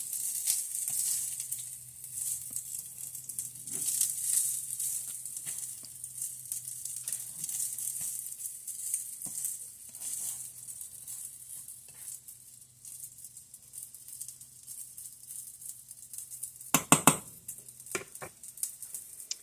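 Cooked rice is stirred into Spam sizzling in a skillet, a steady close sizzle running throughout, with soft scraping stirs and a short burst of utensil clatter near the end.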